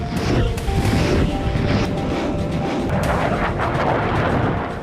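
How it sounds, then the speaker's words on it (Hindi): Grad multiple rocket launcher system firing on a battlefield, a dense roar of launches and booms running continuously at loud volume, with no talk over it. "अब रूस ने यहां grand multiple rocket launcher system से यूक्रेनी सेना पर बड़ा वज्रपात किया।"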